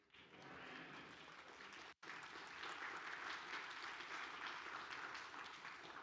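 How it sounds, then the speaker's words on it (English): An audience in a church applauds the musicians, a steady wash of clapping that holds for several seconds with a brief break, heard from within the congregation at moderate distance. "I take it you're applauding for the musicians and not for me."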